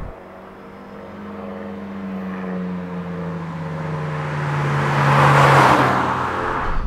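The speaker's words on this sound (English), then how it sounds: "so where this engine really does start to come alive." A Peugeot 306 Rallye with a naturally aspirated engine drives along as a steady engine note drones and shifts in pitch, growing louder toward the end, with no one talking.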